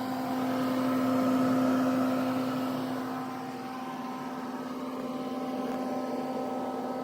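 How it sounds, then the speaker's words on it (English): A Harvest Right freeze dryer runs in the background of a kitchen, producing a steady, low mechanical hum with a constant tonal drone that swells slightly and then settles. "I've got the freeze dryer going. You probably heard it in the background anyway."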